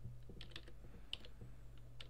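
Quiet tapping on a computer keyboard, a short run of soft, uneven keystrokes close by against a faint low hum, with no speech.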